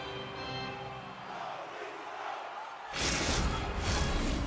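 A hockey arena crowd at an NHL game between Florida and Toronto surges suddenly into loud cheering and roaring after a quieter stretch of low arena murmur.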